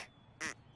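A cartoon duck, a children's animated character that has turned himself into a duck, gives two short nasal quacks, quiet and spaced apart, with no talk during them.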